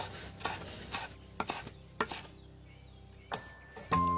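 A knife chops boiled potatoes for chana chaat on a board in a handful of crisp, separate cuts, close and clear with short pauses between them.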